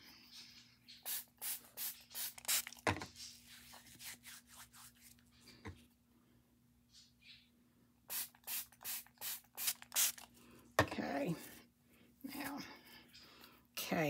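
A spray bottle spritzes water onto silk ribbon in quick, close bursts, one cluster early on and a longer run of rapid squirts later, with soft speech in between.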